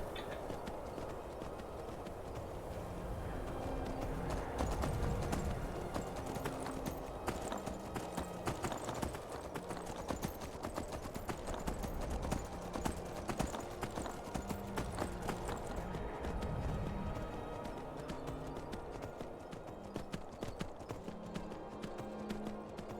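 Steady, rhythmic clip-clop of horse hooves in Skyrim Special Edition, a continuous trotting beat of close, moderately loud hoofsteps over ambient background that lasts the whole stretch.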